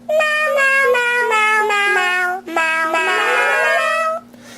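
A run of meowing cat voices plays as piano notes in the Playground HD iPad app, harmonic meows stepping through a quick melody, loud and close, with a brief gap midway and no talking.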